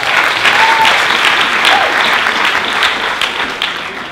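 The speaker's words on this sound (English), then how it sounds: "Please give a round of applause to Mr. Dean Botha." A large audience gives loud, dense, sustained applause for a speaker being welcomed at a talk, continuous clapping that eases slightly toward the end.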